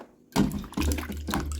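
Water runs and splashes over cut tubers being washed, starting abruptly after a brief quiet moment and continuing in uneven bursts nearby.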